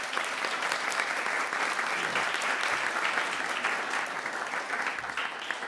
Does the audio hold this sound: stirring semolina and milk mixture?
no